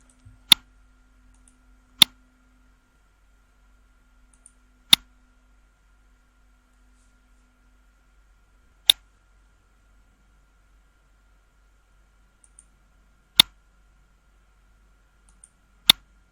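Computer mouse clicks ring out sharp and isolated, six or seven single clicks spaced irregularly a few seconds apart against near silence.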